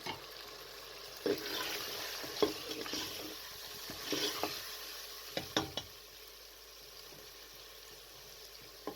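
Mutton frying in a pan for a shaljam saag gosht curry, a soft continuous sizzle broken by several sharp scraping clicks from stirring, close and without talk.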